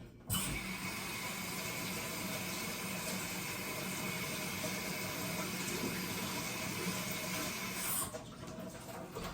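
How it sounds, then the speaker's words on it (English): Tap water runs steadily over plant cutting roots as they are rinsed. The stream is a constant hiss, with faint clicking and handling noises, starting abruptly and stopping near the end. "I'm going to rinse this off"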